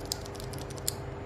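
Enter key with unlubricated Alps-style stabiliser on a KBParadise V60 keyboard, pressed repeatedly in a loop, giving soft rattly clicks over a steady low hum, with two sharper clacks standing out.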